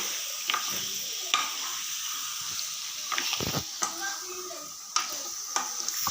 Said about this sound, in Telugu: కొంచెం పసుపు వేసుకొని ఒకసారి అయితే బాగా కలిపేసుకుందాము